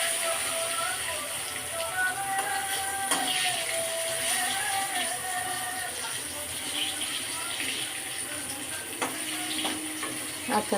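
Dried red chillies and cumin sizzle in hot oil as a tempering for khichdi, a steady close crackle with faint clinks and stirring, while a voice talks over it intermittently.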